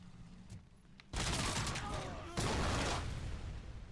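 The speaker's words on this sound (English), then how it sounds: "lays heavy suppressive fire" Heavy suppressive gunfire in Robocop: Rogue City, a dense broadband barrage that bursts in after a quiet second and surges again midway, loud and sustained with low rumble beneath.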